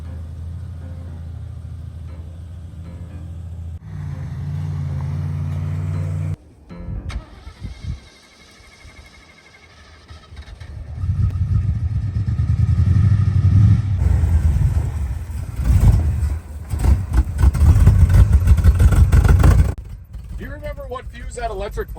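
A combine harvester engine rumbles in a rough, uneven idle, then surges louder and steadier as it clears out before dropping back. Someone talks over the low mechanical drone.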